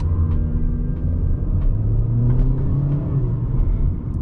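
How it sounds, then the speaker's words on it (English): A 2021 Honda Civic sedan in sport mode accelerates with a low, steady engine rumble and road noise heard from inside the cabin, loud and continuous. "let's say we put this baby in sport mode, we get a ton of low end torque."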